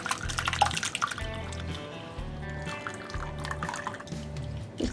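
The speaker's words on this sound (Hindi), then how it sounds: "अब छेने को छान लेंगे।" Water draining from freshly split chena as it strains through a cloth, steady trickling and dripping close by, with faint repeated low background hum pulses underneath.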